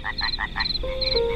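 Small frogs croak by a pond in the Amazon at evening, a quick series of four rhythmic chirping calls followed by a sustained higher trill, close and clear over soft background noise.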